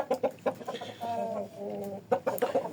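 Chickens and roosters cluck in quick rhythmic bursts, close by, with one drawn-out tonal call in the middle, and no voices over them.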